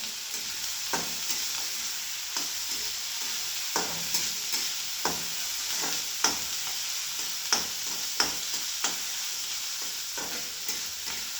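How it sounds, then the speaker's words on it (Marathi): Chopped onions roast in a pan over village-style cooking heat, a quiet steady sizzle punctuated by regular spatula scrapes and taps roughly every second, close by and with nobody speaking. "आता लालसर भाजून घेऊया सगळं आणि पोळ्यांसारखं परतून घेणार आहे"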